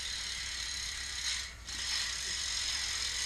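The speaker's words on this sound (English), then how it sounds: "SE high flange hubs, sealed bearing, they spin nice and smooth" An SE high-flange bicycle hub with sealed bearings spins, giving a steady, smooth, fast ticking freewheel whir up close with a brief dip in the middle.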